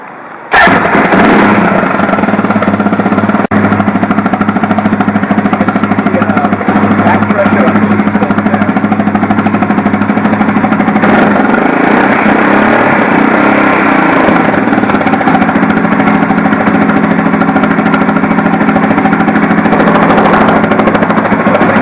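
A 1998 Suzuki DR650 650cc adventure motorcycle engine fires up and settles into a loud, steady, close thumping run that continues throughout, with a rough rhythmic pulse.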